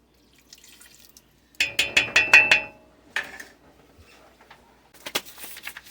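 Lemon juice splashes into black raspberry jam in a pot, giving a short run of close, bright trickling drips for about a second, then a few small clinks and faint movement.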